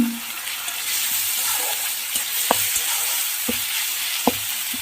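Ground onion paste with ginger, garlic and spices fries in a pan for a Katla fish dish, a steady hiss of sizzling broken by a few sharp spatula taps and scrapes.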